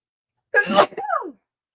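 A single sneeze, close and fairly loud, with a short sharp inhale-burst followed by a trailing vocal tail, then silence.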